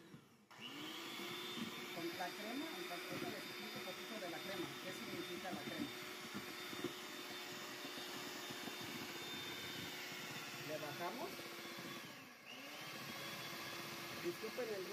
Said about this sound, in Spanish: En nuestra casa no le podemos bajar el ruido a la licuadora ni a la batidora.